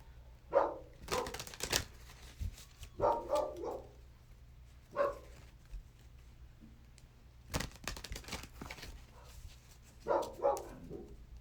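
Dogs bark in short bursts outside, several clusters of barks spread across the clip with quiet gaps between, moderately distant against a low steady hum.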